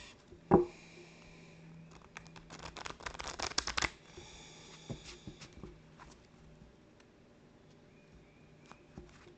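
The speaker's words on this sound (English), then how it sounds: "I just like to shuffle a lot. I'm a big shuffler." Tarot cards being shuffled up close: crisp riffling bursts and flutters, busiest in the first few seconds, then lighter intermittent shuffling and soft handling.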